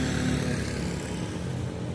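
A motorcycle rides along a wide open road in Ilocos, heading toward Abra, giving a steady engine drone mixed with rushing wind noise throughout, close and continuous with no talking.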